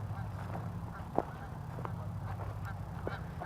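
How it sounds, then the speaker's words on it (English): Geese honking now and then in the distance over a steady low rumble, likely a passing barge engine, with faint talk in the background. "Hear the geese?"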